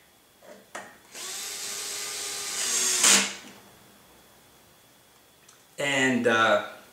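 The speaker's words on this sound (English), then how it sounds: "Again, 3 screws for this process here. Bolting that on." A small electric screwdriver drives screws into parts on a Trex 700E Pro DFC helicopter, with two close whirring runs, the first long and rising to a brief squeal, the second shorter after a quiet gap.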